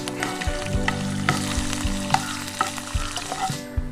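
Dal and coriander seeds dry-roasting in a pan while being stirred, a steady sizzle broken by repeated scraping and clinking strokes of the spoon, close and fairly loud with no talking.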